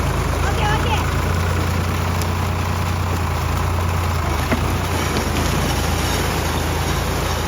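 A tractor engine runs steadily at a harvest field, a loud, continuous low idling rumble that holds throughout, with a voice speaking over it.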